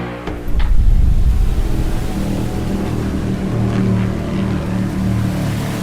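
A motorboat engine in a harbour drones low and steady, swelling slightly as it draws nearer, loud and continuous with no voices over it.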